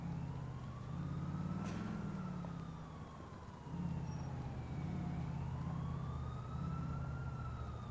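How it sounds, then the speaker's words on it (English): Wailing sirens rise and fall over a low rumbling engine drone in a GTA IV LCPDFR police patrol, moderately distant and continuous, with no talking. "I still can hear some sirens"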